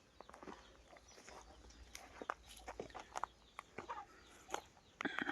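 Chickens and chicks clucking and peeping in a pen, a scatter of short calls at close range over a quiet background, with no talk.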